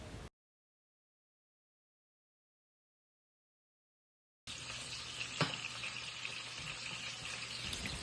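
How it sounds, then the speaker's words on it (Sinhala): Dried fish fries in coconut oil in a pan on the stove, a soft, even sizzle that starts after a long stretch of silence and carries on to the end. "කරවල බැඳුමට භාජනය ලිපේ තියලා ඒකට අපි පොල් තෙල් දාගෙන ටිකක් කරවල ටික වෙනම ඉස්සලාම බැදගමු"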